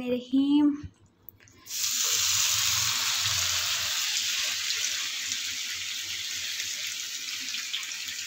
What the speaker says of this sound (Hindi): तो तेल में ये सारे गोश्त को मैंने डाला